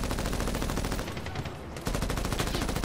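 Heavy guns in Medal of Honor fire in a dense, continuous automatic rattle that dips briefly in the middle and then resumes at full intensity.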